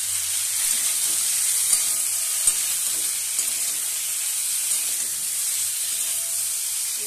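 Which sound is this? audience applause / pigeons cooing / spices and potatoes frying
spices and potatoes frying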